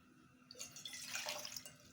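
Water poured for a semolina halwa syrup, a light splashing trickle that starts about halfway through and runs steadily at close range to the end, with no voices.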